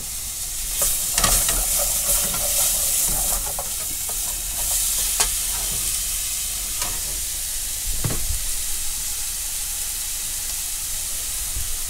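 Ghost chili curry with garlic and ginger fries in pans, a continuous hissing sizzle broken by spoon scrapes and occasional knocks of metal as the mixture is stirred.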